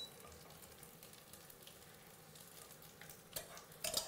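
Loubieh browns in a pan with a quiet, steady sizzle, and a few sharper scraping stir sounds appear near the end.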